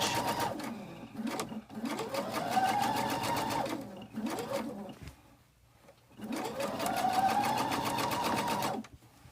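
A sewing machine back stitches a quilt block, running in two long, steady whirring bursts with a rapid mechanical needle rhythm, close and loud, separated by a brief pause.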